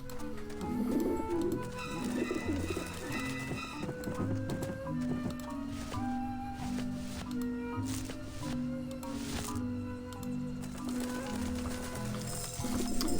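Pigeons coo in the Grim Fandango video game, several soft cooing calls repeating near a rooftop dish vent over a quiet game soundscape with faint clattering.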